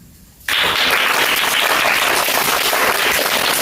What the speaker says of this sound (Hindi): ताली बजाना जोरदार अच्छे से